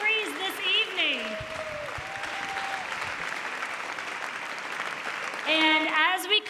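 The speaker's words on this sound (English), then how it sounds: "give another round of applause for our 2025 Teacher of the Year and all of the honorees this evening" Audience applause at an evening education honors ceremony for a 2025 Teacher of the Year, steady and full, with bits of voices, whistles or cheers rising over it at the start and end.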